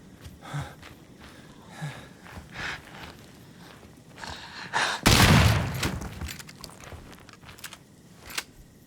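Shotgun blast in the video game Daymare: 1998, a single loud, sudden boom about halfway through that rings out briefly over quieter game ambience with faint thuds and shuffling before it.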